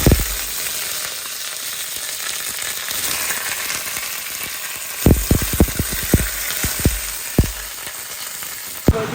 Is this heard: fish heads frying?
yes